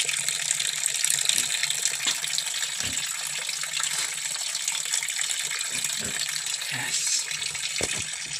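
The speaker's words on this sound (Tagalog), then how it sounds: "Hinihintay lang natin na makapag-ipon ng tubig doon sa drum." Water gushing steadily into a drum on a farm, a continuous hissing flow with a few soft knocks and splashes, and a brief word spoken over it.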